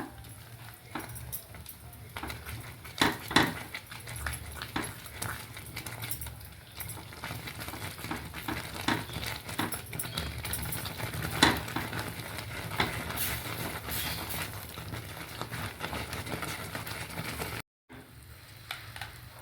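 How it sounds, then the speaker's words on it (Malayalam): Roasted ragi flour being mixed and kneaded by hand, a quiet, continuous rustling and scraping with soft irregular taps, briefly cut off near the end. "നമുക്കൊന്ന് കൈകൊണ്ട് നന്നായിട്ട് കുഴച്ച് യോജിപ്പിക്കണം"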